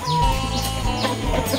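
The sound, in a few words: feather-footed broody chicken clucking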